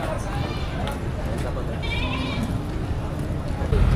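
Goats bleat at an outdoor livestock market in the Philippines, several wavering calls rising over a constant crowd murmur and nearby talk.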